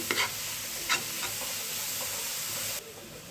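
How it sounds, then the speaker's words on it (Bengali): Chopped mustard greens are stirred into frying onion and egg in a hot pan, a loud steady sizzle with a few quick scraping strokes early on, then the sizzle drops abruptly near the end. "পেঁয়াজ এবং ডিমের সাথে শাকটা মিশিয়ে নেব"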